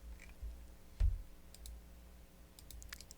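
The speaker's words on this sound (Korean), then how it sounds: "이 상태에서 마우스 오른쪽 버튼을 추가로 눌러서 6 입력하고 확인하겠습니다" A few soft computer mouse clicks, with one sharper click standing out, while drafting a waist yoke blouse pattern in CLO garment design software; quiet and close, with faint room hum and no clear typing.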